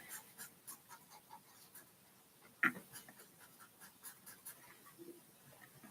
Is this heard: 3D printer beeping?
no